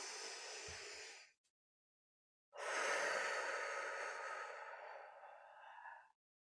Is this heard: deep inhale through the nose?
yes